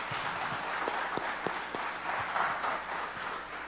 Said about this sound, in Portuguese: Você pode dar um aplauso para eles, por favor?